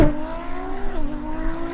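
A Ferrari SF90 and a Nissan GT-R launch side by side in a drag race, engines rising in pitch as they accelerate hard, heard from inside over a short, steady roar.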